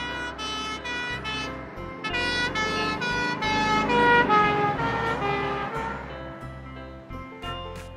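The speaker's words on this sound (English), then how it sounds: "Fire engine!" A fire engine siren wails loudly and close, its rising and falling tone sweeping continuously with a steady low engine rumble beneath.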